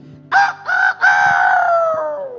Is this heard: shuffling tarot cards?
no